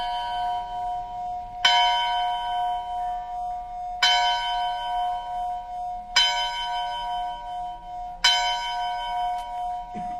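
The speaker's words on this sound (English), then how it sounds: "This is one of those 10 a.m. bells in Paintsville." A church bell in Paintsville, Kentucky tolls at 10 a.m., four loud, evenly spaced strikes about two seconds apart, each ringing out with a long shimmering decay, with no voices.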